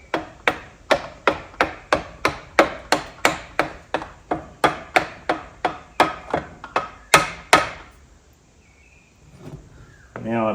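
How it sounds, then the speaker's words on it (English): A hammer strikes a gear on the oil pump shaft of a Panhead engine in a steady run of about twenty sharp metallic blows, then stops, followed by a brief faint noise. "now I'm hitting my gear like I said I would"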